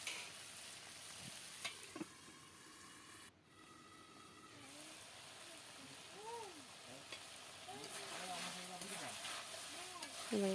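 Small fish frying in a pan, stirred, a soft continuous sizzle with intermittent scraping strokes, faint and close, and a few brief tonal background sounds near the end.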